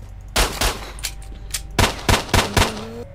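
Gunfire from a .45 pistol in the shooter game S.T.A.L.K.E.R. Shadow of Chernobyl: a string of loud, sharp reports fired in quick bursts, two early shots, a faint one, then four rapid shots close together.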